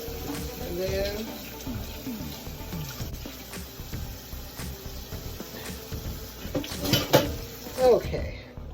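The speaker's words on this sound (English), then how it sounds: "Let's rinse that off. Just give it a good rinse." Juicer parts being rinsed under a running tap, with water splashing and light clinks of plastic and dishes in a sink, while a voice talks over the washing.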